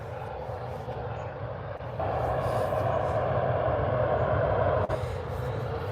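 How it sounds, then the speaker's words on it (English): An EasyJet Airbus A320 airliner at Birmingham Airport gives off a continuous, broad engine roar that swells a little partway through, heard steadily from a moderate distance with no talk. "EasyJet A320. Might be the A319 actually, I don't know."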